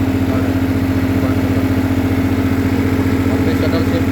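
A Shaktiman rotavator tractor engine runs steadily at high rpm in a banana field, a continuous close drone with a strong low hum and no breaks.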